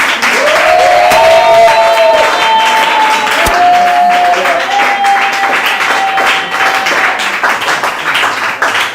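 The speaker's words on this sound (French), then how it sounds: "Donne une offrande d'acclamation à Jésus." A congregation at a French-language deliverance church service breaks into loud, sustained applause and cheering, with a sung or shouted tone rising above the clapping, then the clapping gradually settles.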